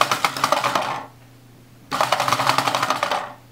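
Two bursts of dense, clattering rattle from a motorized LEGO dice roller tumbling dice, each lasting about a second with a short quiet gap between, close and fairly loud over a steady low motor hum.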